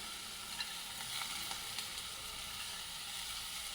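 Ceylon spinach leaves added to a hot pan with tomato for a curry give a steady, soft sizzling hiss from start to finish, close but quiet, with no one speaking.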